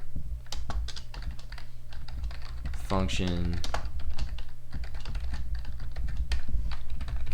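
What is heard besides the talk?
typing code on a computer keyboard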